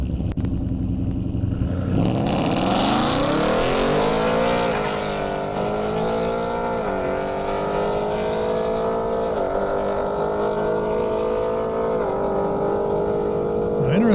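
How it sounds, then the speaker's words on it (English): An Audi and a Mustang race down an airstrip at a roll-race event: loud engine roar building from about two seconds in, rising in pitch through gear changes and holding strong and near to the end. "great view of that Audi and that Mustang."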